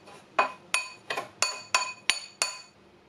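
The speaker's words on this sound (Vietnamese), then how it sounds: "Chén gia vị này mình trộn lại." A spoon clinks rhythmically against a small bowl while spices are mixed to season dried salmon, with seven bright, ringing taps at a steady pace, close and alone, with no talking.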